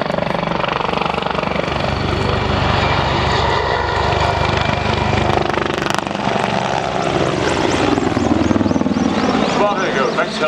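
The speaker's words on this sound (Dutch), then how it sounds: "It's a twin-engine helicopter, two Isotov TV317 turbines," A Mil Mi-24 Hind with twin Isotov TV3-117 turbines of 2,200 shaft horsepower each runs at an airshow, giving off a loud, continuous turbine whine and rotor roar while an announcer speaks over it.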